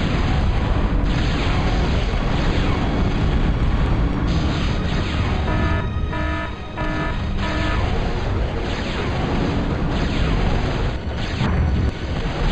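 Battleships explode and sink in the Total Annihilation strategy game, a dense continuous roar of booming blasts and rumbling destruction with layered game effects throughout.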